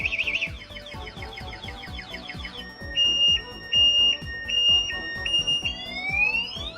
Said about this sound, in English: This car alarm got him going crazy.